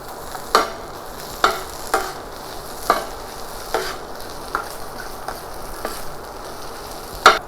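Fried rice tossed with fresh basil leaves in a hot pan, a soft constant sizzle punctuated by about ten crisp spatula scrapes at a steady, unhurried rhythm.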